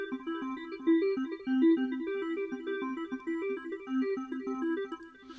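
Arpeggiated synth pattern from a Reason RPG-8 arpeggiator, quick repeating stepped notes cycling steadily in a low-mid register with bright upper harmonics, played alone and fairly soft.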